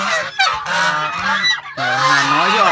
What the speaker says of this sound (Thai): โอ้ห่านเสียงอย่างดังนะครับ